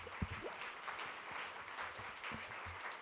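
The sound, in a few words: audience applause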